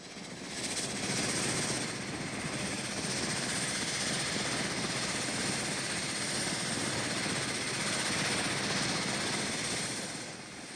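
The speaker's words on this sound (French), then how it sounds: "Des hélices contrarotatives permettent de maîtriser le couple de l'énorme turbopropulseur Allison." An experimental vertical-takeoff aircraft with a large Allison turboprop and contra-rotating propellers roars in a steady, loud, broadband drone that holds for about ten seconds without any talk.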